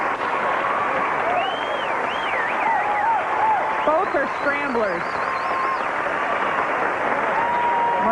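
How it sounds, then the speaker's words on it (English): A tennis crowd applauds steadily throughout, a continuous dense wash of clapping beneath a commentator's voice speaking over it for the whole stretch. "But I think the applause is for this one over here."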